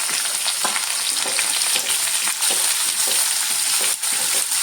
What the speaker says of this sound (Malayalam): ഈ സബോള ഒരു ഗോൾഡൻ നിറമാകുന്നിടം വരെ നമുക്കൊന്ന് വഴറ്റിയെടുക്കാം.